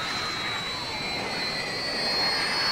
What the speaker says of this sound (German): Engine's gone! Plane's coming down.